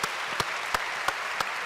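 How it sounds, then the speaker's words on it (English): A conference keynote audience applauds in a steady, dense round of clapping that fills the short moment, with a few sharper bursts standing out at regular points. "let's give Ronnie a big round of applause."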